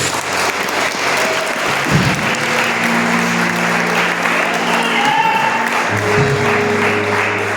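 A church congregation claps in thanks to the pastor, a broad, sustained wash of applause carrying on evenly while low sustained tones hum beneath it.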